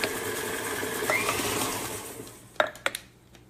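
A stand mixer churns chocolate chip cookie dough on low speed, giving a steady close whirring hum that fades out near the end, followed by a few sharp clinks against the bowl.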